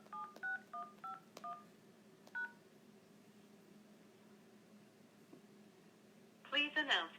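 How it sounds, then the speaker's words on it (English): Telephone keypad tones entering a conference access code: a quick series of separate touch-tone beeps, then a pause with quiet line hiss, followed by a short burst of rapid tones at the end. "Please enter your access code followed by the pound or hash sign."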